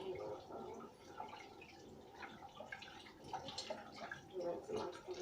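Tap water runs quietly over hands being washed at a home kitchen sink, a faint, continuous splashing with small drips and gurgles.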